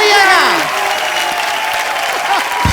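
A studio audience at The Kapil Sharma Show bursts into loud, sustained applause that fills the whole moment, with a voice briefly heard over the clapping at the start.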